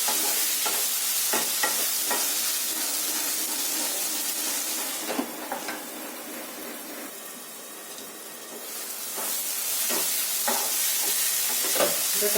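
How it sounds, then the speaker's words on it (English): Tomatoes for a Kerala-style egg curry with coconut milk are stirred in a hot pan, giving a close, continuous sizzle and hiss broken by spoon scrapes, easing briefly before picking up again. "Mix well, close the lid and let it cook."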